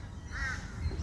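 A single harsh raven call, a short hoarse croak from a bird at a nature centre, sounds at moderate distance over low outdoor rumble.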